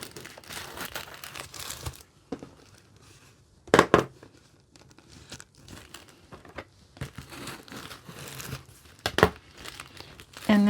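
Paper envelopes being folded down crinkle and crumple up close, with a few sharp crackling bursts among softer rustles in an otherwise quiet room.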